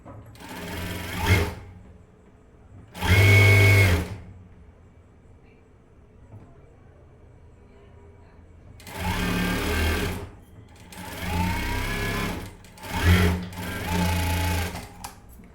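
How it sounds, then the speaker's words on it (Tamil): A sewing machine stitches a lining blouse in several loud, close bursts of fast, rapid rattling, separated by quieter pauses where faint talk can be heard. "பண்ணிவிட்டு இப்போ இதையுமே நான் வந்து ஸ்டிச் பண்ணிக்கிறேன்."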